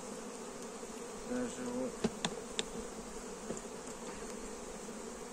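Honeybees at an open hive during a pre-winter inspection and oxalic acid treatment, a dense continuous buzzing hum with a few sharper passing tones, and someone speaks briefly over it.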